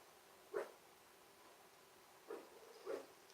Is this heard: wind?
no